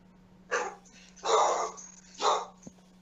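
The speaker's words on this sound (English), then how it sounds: "My dog's barking." A dog barks three times nearby, each bark loud and brief with short gaps between, over a steady low electrical hum.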